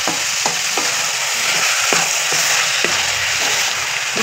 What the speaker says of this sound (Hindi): करीबन 5 मिनट आपने मीडियम फ्लेम पे इसे फ्राई कर लेना है